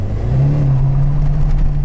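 A Moskvich 2141 floored at full throttle from around 2000 rpm gives a loud, close, steady engine drone that climbs in pitch as the car pulls away, with no voices.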